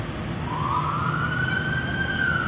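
An emergency vehicle siren wails in a long rising sweep that holds at a high pitch, heard over steady background traffic rumble at moderate loudness.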